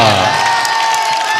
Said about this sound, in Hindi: तो उनके लिए एक बार जोरदार तालियां